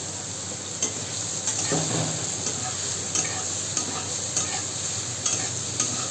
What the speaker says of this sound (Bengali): বেগুনটাকে এরকম করে অল্প করে ভেজে নেবো